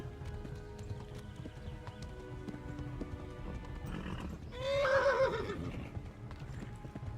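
In the video game Kingdom Come: Deliverance, a horse whinnies loudly once near the middle, over a steady low rumble and faint clip-clopping hooves; no talking.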